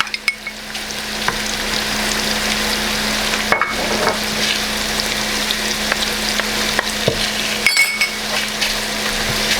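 Minced pork for a salty khanom tian filling stir-fries over medium heat in a pan, a steady loud sizzle running throughout with occasional scrapes and clinks of the spatula.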